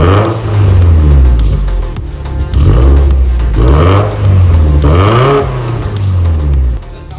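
A Subaru STI with an EJ20X engine revs hard at its first start, loud and close, the exhaust note climbing and falling through several sharp rises with brief dips between them.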